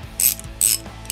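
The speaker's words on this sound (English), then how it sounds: "I recently purchased this, which is a little torque wrench that fits into your standard socket" A small torque wrench in a standard socket tightens Kawasaki H2 motorcycle clutch springs, giving loud close ratcheting bursts: two sustained clicking pulls and a brief final set of clicks, with no talking.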